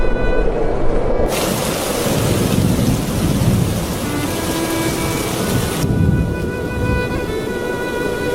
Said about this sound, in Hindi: हे भगवान, बारिश होने लगी।